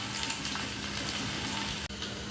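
Shallots sizzle steadily in hot oil for a Kerala-style taro-leaf stir-fry, a close, dense frying hiss with no voices, briefly dipping near the end.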